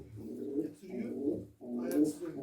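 Pigeons at a loft coo close by in three soft, throaty, rolling phrases, each lasting about half a second, with no speech.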